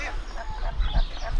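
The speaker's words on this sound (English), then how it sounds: "And there is a mama duck in here" A mother duck on a New Zealand homestead calls in a run of close, honking quacks repeated in quick succession.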